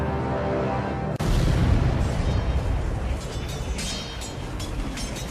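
Explosion effect in a science-fiction audio drama, a reactor going critical amid battle: a sudden loud boom cuts in after a low hum, then a long rumbling roar with crackling debris that slowly fades.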